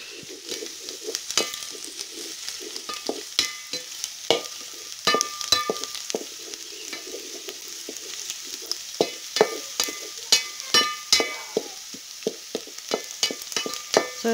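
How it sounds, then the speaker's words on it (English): Onions fry in oil over medium heat for homemade ketchup, giving a steady soft sizzle. Frequent sharp clicks and scrapes of a spoon stirring the pan sound close up, with no voices. "Then you add your onions and fry till they are translucent."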